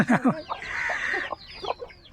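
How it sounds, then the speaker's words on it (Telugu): A hen and a rooster cluck close by in a short burst of several quick, clear calls with brief gaps between them. "ఇగో ఈ పెట్ట ఆ పుంజు"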